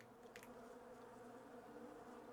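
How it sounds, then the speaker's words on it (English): Bees buzz in the video game Island Beekeeper, a steady, faint insect drone with a few brief louder flickers near the start. "The bees are very loud."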